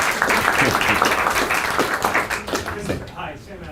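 A room of people at a Cleveland mayoral press conference breaks into brief applause, with distinct sharp claps close by that taper off as a voice starts speaking.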